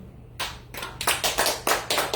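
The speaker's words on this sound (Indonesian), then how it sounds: "Tepuk tangan dong." Scattered clapping in a series of separate bursts, like a small church congregation applauding unevenly during a sermon, fairly close with no talking.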